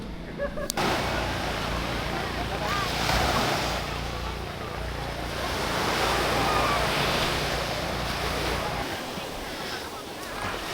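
Sea waves rolling onto Patar Beach in Pangasinan, a continuous broad wash of surf with slow swells and some wind buffeting on the microphone, steady and fairly close throughout.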